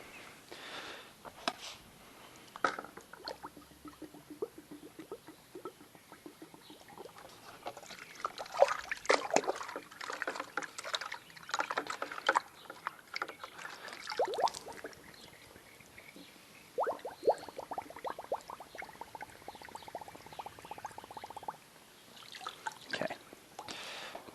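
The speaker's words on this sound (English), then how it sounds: "to finish filling up the bucket, I go over here to my rinse bucket" Water pours from a rinse bucket into a car wash bucket holding Chemical Guys Honeydew Snow Foam, an uneven trickling and splashing that swells and eases over about twenty seconds, close by and with no talk.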